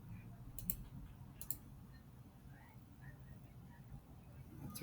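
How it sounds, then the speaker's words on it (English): A computer mouse clicking, with two sharp, crisp clicks a moment apart, close and fairly quiet against a soft background hum. "I'm going to go double click right there."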